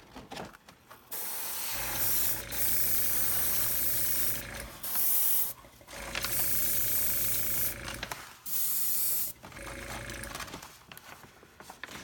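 An airbrush sprays base coat onto a statue, producing loud steady hissing bursts that start and stop several times, each spray lasting a couple of seconds with short quiet gaps between.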